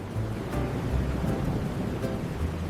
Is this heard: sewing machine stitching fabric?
no